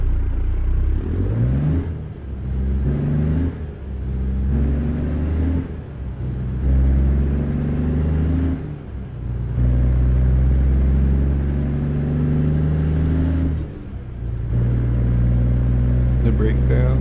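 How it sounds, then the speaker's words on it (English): A 1960s-era truck in American Truck Simulator drives with a steady low engine drone, broken by several sharp hissing air-brake releases spaced through the run, while voices talk over the engine. "The brake sounds."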